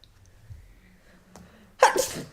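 A single sharp sneeze bursts out near the end after a stretch of quiet room tone, loud and close.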